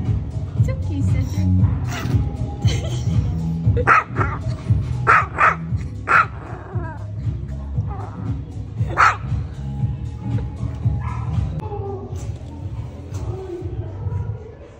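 Small dogs bark and yip in a dog cafe during a brunch outing, several sharp barks scattered over steady room chatter and background noise, with people talking nearby throughout.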